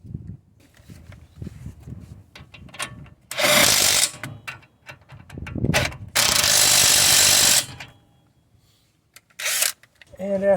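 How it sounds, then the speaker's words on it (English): A ratchet tightens the brake caliper bolts on a Mercedes in several loud, close bursts of rapid clicking, separated by quieter handling noises and low speech. "now I go get my ratchet and run this thing down to tight"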